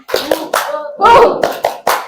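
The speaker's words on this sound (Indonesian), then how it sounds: "Ayo, tepuk semangat." A classroom group performs a rhythmic spirit clap, bursts of unison clapping in a steady beat mixed with shouted chant syllables from the students, loud and close.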